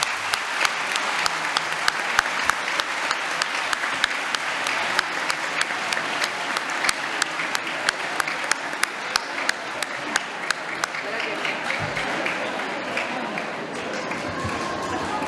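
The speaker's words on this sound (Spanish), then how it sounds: "Le damos un fuerte aplauso a Pablo para animarlo." A loud round of audience applause for Pablo, dense, continuous clapping with sharp individual claps standing out over the crowd, sustained for the whole stretch.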